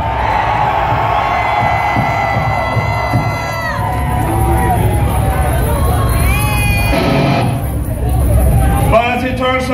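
A concert crowd at a show in Los Angeles cheers, whoops and shouts loudly in a dense roar that swells and keeps going, with voices calling out within it.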